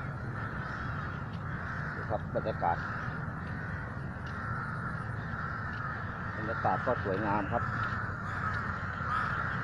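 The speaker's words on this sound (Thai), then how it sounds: "เสียงนกเสียงการ้อง" Crows caw in a city park, Lumphini Park in Bangkok, with two short bursts of repeated caws over outdoor ambience while someone talks throughout.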